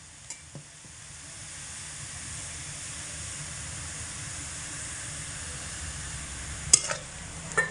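Roasted semolina tipped into a pan of boiled potatoes frying in oil, sizzling steadily throughout with soft stirring scrapes, a couple of sharper clinks near the end, no voices.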